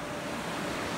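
Sea waves wash in a constant broad, dense rush of surf, loud and even with no distinct breaks or voices.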